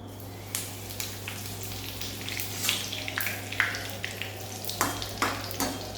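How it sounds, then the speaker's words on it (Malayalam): Curry leaves fry in hot oil, giving a faint, continuous crackle punctuated by scattered sharper pops, with a steady low hum underneath. "നമ്മുടെ എണ്ണ നന്നായിട്ട് ചൂടായിട്ടുണ്ടെങ്കിൽ നമുക്ക് കറിവേപ്പില വറുത്ത് പോരാം"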